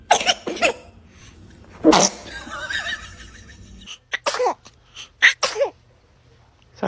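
A newborn baby sneezes several times in quick, sharp bursts, close and fairly loud, with brief gaps of quiet between them.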